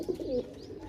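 A golden pigeon at a pigeon seller's gives a single soft, short coo, close and fairly quiet, with no talking.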